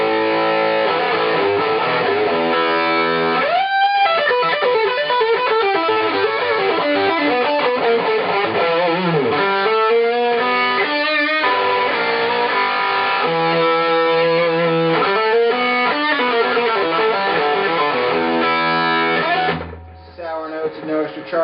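ESP LTD EC1000 FM Deluxe electric guitar fitted with Seymour Duncan JB and '59 pickups, played through heavy distortion in a busy run of riffs, bends and chords, loud and sustained before cutting off near the end.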